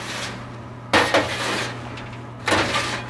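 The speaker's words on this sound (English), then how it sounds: "And you can hear some of those unpopped kernels." Unpopped popcorn kernels rattle and clink against metal as they are sifted around inside a popcorn machine, two short bursts of gritty scraping over a steady mechanical hum, close by and with no talking.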